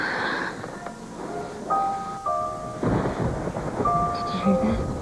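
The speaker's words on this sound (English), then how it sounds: "It was thunder." Thunder rumbles low and heavy through a storm with rain, mixed with sustained musical tones from a soap opera score; no one speaks during it.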